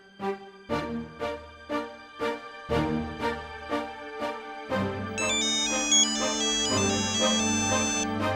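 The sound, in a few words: phone ringtone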